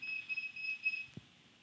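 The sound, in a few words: multimeter beeping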